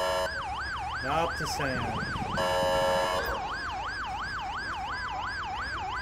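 An ambulance siren in GTA 5 wails in a steady, rapid up-and-down cycle close by and loud throughout, briefly mixed with other traffic noise while someone speaks over it.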